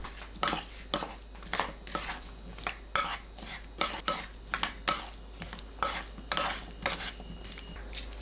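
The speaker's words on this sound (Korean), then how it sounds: "파프리카, 양파 넣고 버무립니다." Sliced paprika and onion tossed by hand in a bowl with plum syrup and sesame oil, giving repeated close clinks and scrapes of dish and utensil in a steady rhythm, with no talking.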